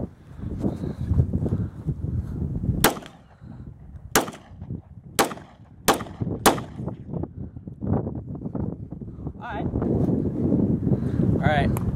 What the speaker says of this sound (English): I'm only going to shoot 5, but I just want to make sure they cycle through the gun well.